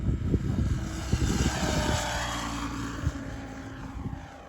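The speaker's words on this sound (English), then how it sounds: "let's just do a full throttle pass like this" A Blade 700 RC helicopter makes a full-throttle pass, its rotor and motor whining loudly as it sweeps past. Sharp gusty bursts mark the first seconds, then the whine settles into a steady roar.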